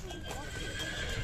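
A horse at a livestock market, a trained Budyonny cross, heard in a brief busy stretch of hoof clops and a neigh amid crowd noise and nearby voices.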